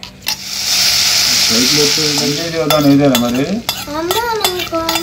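An omelette fries in oil on a small portable mini stove, with a steady loud sizzle running under the whole stretch while people talk over it.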